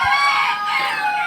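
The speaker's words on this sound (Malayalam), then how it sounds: "കരിങ്കോഴി കുഞ്ഞുങ്ങളാണ്. ഇത് നാടൻ ഇനത്തിൽപ്പെട്ട കോഴികളാണ്." A brood of native black Karinkozhi chicks cheeps in a dense, continuous chorus of high, thin peeps, many small voices overlapping close by.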